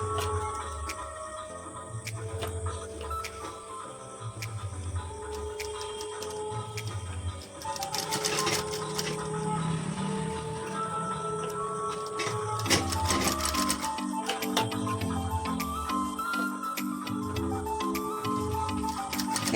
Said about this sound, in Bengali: এটা আমি মেশিনে সেলাই করে দিচ্ছি